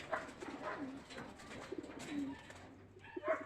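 Soft, repeated cooing of a racing pigeon in a loft, several low rounded calls in a loose rhythm, fairly faint and close, with light background noise.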